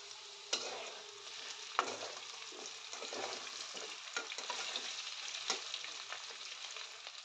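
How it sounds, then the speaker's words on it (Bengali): Potatoes seasoned with turmeric and salt fry in a pan of oil, a steady close sizzle broken by occasional louder scraping stirs, with no voices. "আলুগুলো কিন্তু ভাজা হয়েই এসেছে।"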